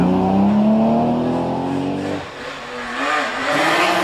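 A Porsche race car leaves the line at the Prescott hill climb, its engine note climbing loudly, breaking off at a gear change, then pulling away again with a rougher, fading roar.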